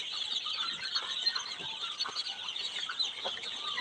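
A crowd of young local (desi) chicks peeps continuously in a dense, high, overlapping chorus at moderate distance, with no talk over it.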